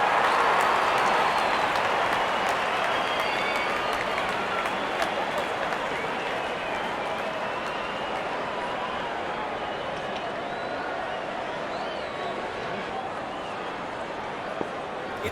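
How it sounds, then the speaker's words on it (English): A cricket stadium crowd roars and applauds a ball racing to the boundary, a dense, sustained wash of cheering that slowly eases, with a commentator's voice running underneath. "The crowd is enjoying every bit of this action."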